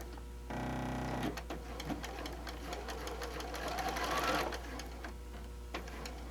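Sewing machine stitching a quarter-inch seam on quilt pieces, a steady whirring run that starts abruptly, then rattles on with light clicks and handling noise, fairly quiet and close.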